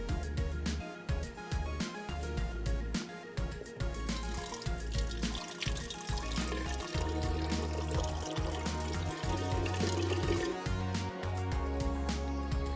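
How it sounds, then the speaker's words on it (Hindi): Water poured into a cooking pot holding onions with cinnamon, cloves, cumin, salt and chicken powder, a steady loud pouring splash running throughout over music. "पानी डाल के हमने इसको बॉयल आने देना है"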